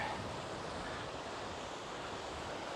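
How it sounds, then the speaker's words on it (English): Water runs in a small creek at the base of a waterfall, giving a soft, even wash of noise. It is faint and steady, with no voices. "it's like a little dribbling creek down here"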